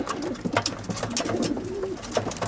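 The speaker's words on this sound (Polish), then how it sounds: "Super gołębie." Pigeons coo softly in a low, rolling warble, several calls overlapping with light rustling nearby.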